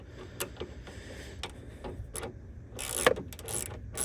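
A wrench works loose the first battery terminal on a 2024+ Duramax truck, making quick close ratcheting clicks and light metallic ticks that grow busier toward the end.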